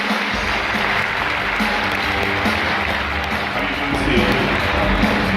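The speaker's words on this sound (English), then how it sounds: "let's give a round of applause for Stephen Edgington" A conference audience at Epicor Insights 2018 gives sustained applause, a dense and steady wash of clapping across the whole stretch with possible murmuring beneath it.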